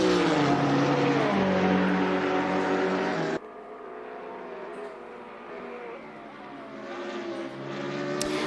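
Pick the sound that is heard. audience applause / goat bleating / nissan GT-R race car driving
nissan GT-R race car driving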